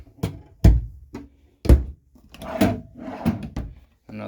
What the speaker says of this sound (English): Another drawer down below with a hanging rod.